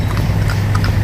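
Horse hooves clip-clop on a Manila street, a steady close rhythm of hoof strikes over a constant low street rumble.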